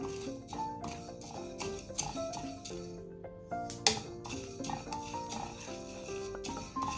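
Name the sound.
stirring spices dry roasting in a pan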